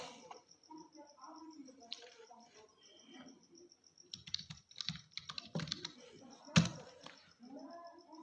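Keys clatter on a computer keyboard as names are typed into a Microsoft Word document, in uneven close bursts, fairly quiet, with a soft voice and a thin steady high tone behind them.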